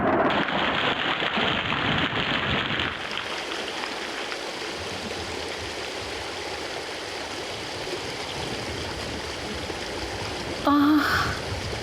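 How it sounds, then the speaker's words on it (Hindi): Steady rain falls outside, a dense broadband hiss like water streaming, louder for the first few seconds and then softer and continuous, with a brief bright burst near the end. "ओह, बाहर तो बारिश हो रही है।"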